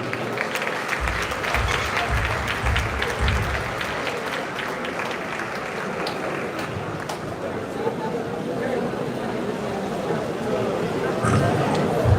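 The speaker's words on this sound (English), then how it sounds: "Let's keep clapping." Sustained applause from a symposium audience at a good-governance event in Nigeria fills the room as a dense, steady wash of clapping, with voices mixed in and a slight swell toward the end.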